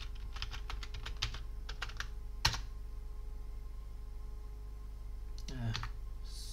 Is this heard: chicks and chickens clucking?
no